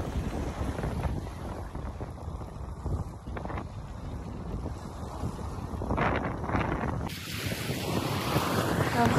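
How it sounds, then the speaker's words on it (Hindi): Wind blows steadily across Half Moon Beach near Al Khobar, Saudi Arabia, with a broad rushing roar and surf-like wash that swells louder toward the end, with no voices. "एक जो हवा की ही आवाज़ है ना वो भी बहुत सूदिंग लग रही होती है।"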